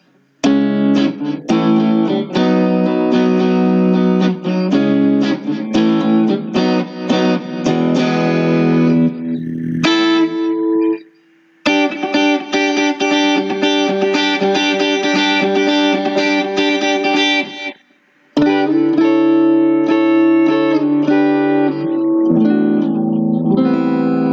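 A Harley Benton T-style electric guitar with a bright, twangy bridge-pickup tone plays chords and riffs with effects, loud and continuous, with two brief pauses.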